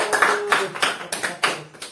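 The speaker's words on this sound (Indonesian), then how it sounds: "Tepuk kamu sudah dong untuk Wahid" A classroom applauds the student Wahid in several quick bursts of clapping, close and sharp, with uneven rhythm and no talking over it.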